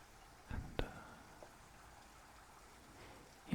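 Real rain falls outside during a rainstorm, a faint soft steady patter with a few louder drops and splashes.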